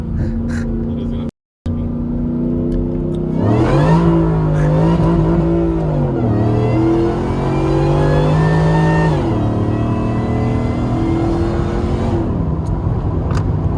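A Cobra Terminator accelerates hard from first gear, its engine climbing in pitch through a loud rev, dropping at a shift and pulling up again in a sustained roar, with voices briefly audible inside the car.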